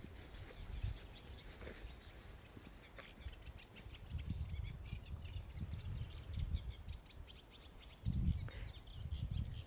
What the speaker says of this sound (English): Hear all the birds chirping.